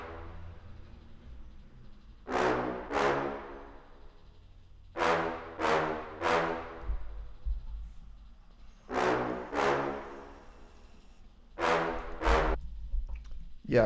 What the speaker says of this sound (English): this brass pattern that I add in certain sections as well